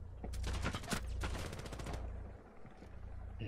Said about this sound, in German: Nein, das war ein Headshot